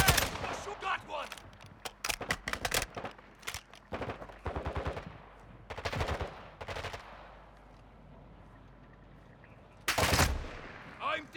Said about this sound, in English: The bots are shooting in that direction.